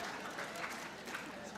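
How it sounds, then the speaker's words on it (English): Faint, distant audience applause during a debate on Islam, a soft steady patter of clapping that lasts only a moment. "I can hope to live in a country where I can say that and get applause."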